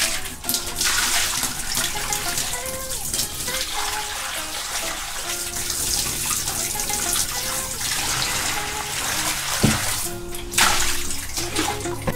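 About 2.5 gallons of water gush and splash down the drain of a camper van shower pan sealed with Flex Seal, a loud, continuous rushing pour with slight surges near the end.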